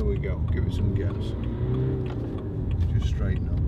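Engine revs and pulls as a BMW 1 Series 123d diesel with a six-speed gearbox speeds up, heard from inside, with a voice speaking briefly over the steady motor drone.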